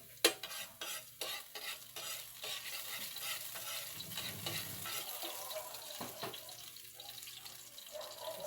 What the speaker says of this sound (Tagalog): Magigisa na tayo.